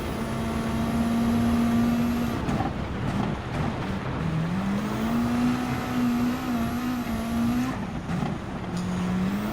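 A race car engine in Gran Turismo 7 holds a steady high drone, loud and close, with the pitch dipping between gear changes and then rising again as the throttle stays pressed.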